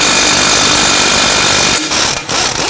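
A nut on the back side of a 2014-2020 Nissan Rogue front strut assembly comes off with an 18mm socket. A loud, steady mechanical whir runs throughout and cuts out briefly twice near the end.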